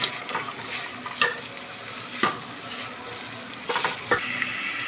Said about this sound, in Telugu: ఇది క్యారెట్ని లైట్గా నెయ్యిలో వేయించేసుకోవాలి